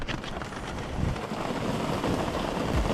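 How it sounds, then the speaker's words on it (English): Rain falls on an offroad camper as a soft, even patter, faint and continuous, with low wind rumble buffeting the microphone underneath. "Oh good, it's raining."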